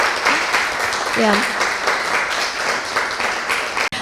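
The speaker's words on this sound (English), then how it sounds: "I think another big round of applause" Audience applause fills a panel talk in an arts event, a steady broadband wash of clapping throughout with a voice speaking briefly over it, ending abruptly.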